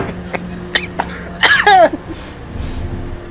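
A person coughs in a few sharp bursts, close and fairly loud, with a raspy, throaty fit in the middle and quieter breaths and rustling around it.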